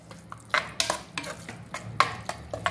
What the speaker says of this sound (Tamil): பாருங்கள், நான் கட்டி தயிரில் தான் ஃபுல்லாகவே கலக்கிறேன்.